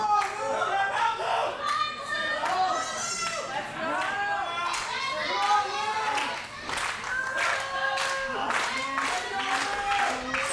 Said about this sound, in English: Fans clapping, getting behind both men here.